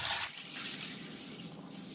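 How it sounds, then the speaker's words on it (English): Steady rushing of water poured onto dried red beans in a container, a continuous splashing stream with a brief dip in flow partway through. "I'm going to put the water in the beans."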